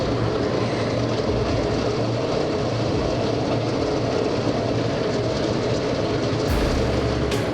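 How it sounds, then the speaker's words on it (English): A locomotive clearing snow-covered tracks after a snowstorm makes a continuous dense rumble and hiss, steady and loud throughout with no talk. "Join the ride aboard the locomotive as it clears the tracks after a snowstorm"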